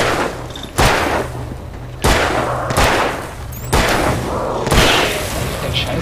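Revolver shots in the Alan Wake video game: four sharp, loud booming gunshots spaced about a second apart, with a steady low game hum underneath.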